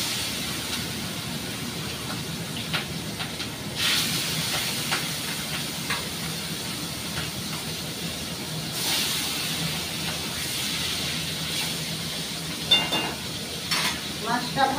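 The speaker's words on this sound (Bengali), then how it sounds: "মাছটা ভাজা হোক, গ্যাসটা কমিয়ে রাখলাম, আস্তে আস্তে ভাজা হবে।" Fish fries slowly in a pan over a low gas flame, giving a steady, soft sizzle and hiss with occasional brief bursts of sputtering.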